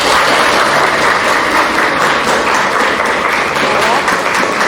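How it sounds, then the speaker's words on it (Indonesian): A classroom of students claps for a group of classmates, loud and continuous with lively chatter mixed into the applause. "Sekarang beri tepuk tangan untuk kelompok 4."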